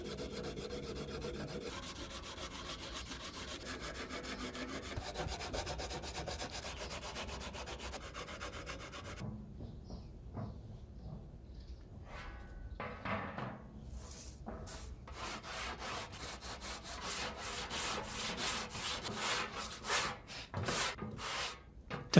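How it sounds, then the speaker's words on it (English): Sandpaper rubbed over a flat surface to flatten a wooden guitar body for a Telecaster-style build, first a long continuous scraping hiss, then a quiet pause and a run of short, rhythmic sanding strokes that grow louder. "I used sandpaper on a flat surface and just kept sanding and flipping until it was very close."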